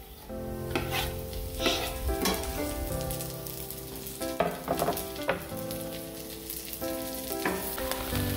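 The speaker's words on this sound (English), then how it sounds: "Keep both the onions and the mushrooms cooking until the onions are quite brown." Onions and mushrooms fry in a pan with garlic, a dense continuous sizzle close up, broken by repeated scraping stirs and clinks of a utensil against the pan.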